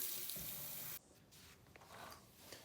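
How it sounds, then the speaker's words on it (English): Faucet on the lowest floor of a house running water to drain the plumbing system, a steady hiss that cuts off abruptly after about a second, followed by quieter trickling and handling noises. "find a faucet that is in the basement or on the main floor, whichever is the lowest, and simply turn it on to drain the system"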